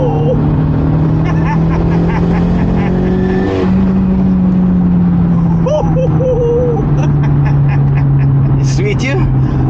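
Turbocharged Audi B5 car accelerating hard from inside the cabin, a loud steady engine drone rising in pitch throughout, with people talking and exclaiming over it.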